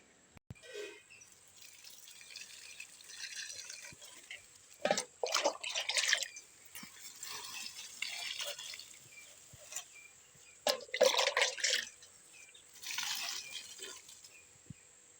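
Water poured by hand onto cucumber vines in a home garden, in several splashing, trickling bursts with quieter dripping gaps between them, close by and moderately loud.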